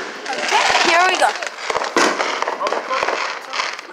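A video game firework lit by an on-screen character pops and crackles in sharp bursts, with a voice talking over the noise throughout.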